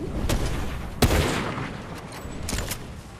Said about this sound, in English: Well, at least they're shooting at me now.